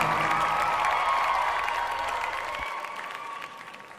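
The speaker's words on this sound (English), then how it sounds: "Let's make sure we give a big round of applause for Red-Nosed Rudy and give her a final good" Steady applause from a crowd, dense and continuous, slowly fading toward the end.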